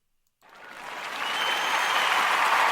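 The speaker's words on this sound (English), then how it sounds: "we want to give all of our Umoja babies a round of applause" A crowd bursts into applause for the Umoja babies after a moment of silence, the clapping swelling steadily and holding strong and dense.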